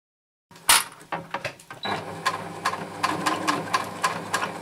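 A sewing machine stitches a fleece hat. A few close clicks and a thump lead into a steady, fast mechanical whirr of running stitches that continues to the end, with no talking.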